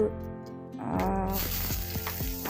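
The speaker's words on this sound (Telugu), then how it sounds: "కట్ చేసి పెట్టుకున్నటువంటి ఆనియన్ పచ్చిమిర్చి కరివేపాకు అన్నీ అన్నీ వేసిన తర్వాత ఆయిల్లో బాగా వేగనివ్వాలి" Onion, green chilli and curry leaves hit hot oil, and the sizzle swells from quiet to a bright, steady hiss over a droning tonal background.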